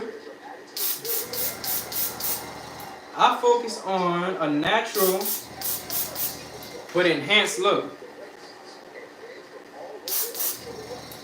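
A spray bottle mists onto hair in short repeated bursts, clusters of quick hissing pumps, while someone speaks between them.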